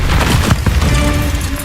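Bombarda blasting spell from Hogwarts Legacy erupts in a loud, crunching boom with a couple of sharp bursts early on, then a rumbling roar that lingers and settles into a sustained hum.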